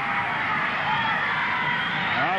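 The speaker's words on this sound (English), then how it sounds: "Crowd yelling." A wrestling crowd at a Pacific Northwest title match yells continuously, a dense roar of many voices with rising whoops near the end, loud and steady throughout.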